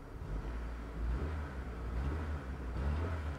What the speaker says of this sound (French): Je vais mettre des légers coups de gaz